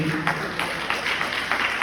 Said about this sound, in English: Please clap your hands for yourself for listening.